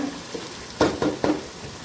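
Curry leaves crackle and sizzle in hot oil while frying for a Kerala chicken stew, three sharp spits close by over a steady fry, with no voices.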